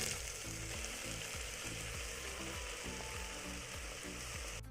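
Potatoes and banana flower fry in a pan with a steady, dense sizzle and faint stirring scrapes throughout. The sound is close and even, with no voices.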